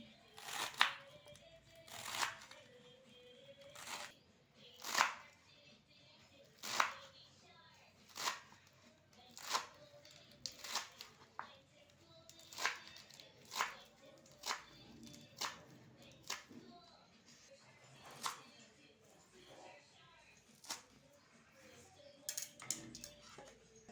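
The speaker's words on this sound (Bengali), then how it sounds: "আর এখানে আমার এই যে দেখো পালং শাকগুলো একদম ছোট ছোট করে কেটে নিচ্ছি।" Spinach is chopped into small pieces on a board, sharp knife knocks landing in an irregular steady rhythm about once a second, close and fairly quiet, with no talking.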